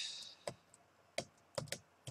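Keystrokes on an American-layout computer keyboard while entering a terminal command, heard as a handful of crisp, close clicks in an uneven rhythm, some in quick pairs, over a faint background hiss.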